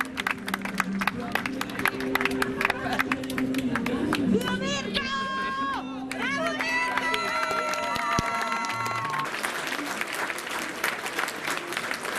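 A large crowd claps and cheers to welcome home Olympic medallist Mirko Zanni, the steady applause running throughout with voices and music mixed in, loud and close.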